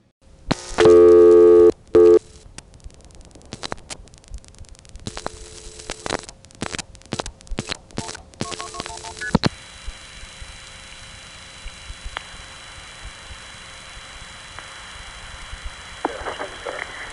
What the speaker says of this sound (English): What I'm going to try to do here is dial a few more digits after 180.